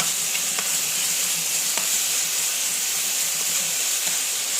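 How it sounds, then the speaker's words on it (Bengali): Egg curry frying hard in a pan on an induction cooker, a loud, dense, unbroken sizzle with a few faint stirring ticks. "একটু ভাজা ভাজা করছি"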